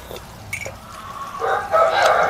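Farm chickens and a rooster clucking and crowing, with a rising crow near the end heard close over quiet outdoor background.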